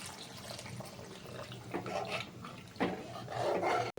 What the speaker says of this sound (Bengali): আর এখন কিছুটা জল অ্যাড করব।